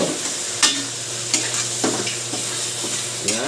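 Cleaned squid frying in a pan for adobo, a continuous sizzle broken by several sharp scraping stirs of a utensil against the pan, close and alone.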